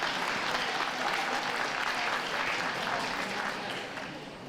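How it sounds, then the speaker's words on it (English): Steady, dense applause from a crowd at a dog show ring as terrier group entrants leave, a continuous broad wash of clapping that holds throughout and eases slightly at the end. "A round of applause for those leaving the ring, please."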